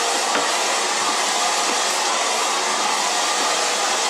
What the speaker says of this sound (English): to get a nice, smooth, polished blow dry